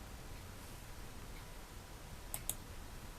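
Two quick, crisp computer mouse clicks close together, pressing Save to export a Word page as a JPG image, standing out briefly above a steady low background hiss.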